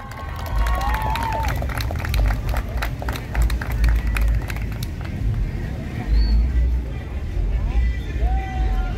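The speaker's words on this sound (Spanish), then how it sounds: "Un fuerte aplauso, por favor." Audience applause for a singer being welcomed onto the stage at a talent presentation, a steady stretch of clapping under a lively crowd hum with some voices mixed in.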